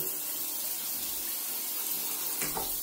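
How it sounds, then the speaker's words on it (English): Steam shower water running steadily from the overhead shower of a Mr Steam Butler and Grohe setup after a push-button start, a constant spattering hiss heard alone with a brief splash near the end. "To turn it on, you just push this button. There we go, we have water."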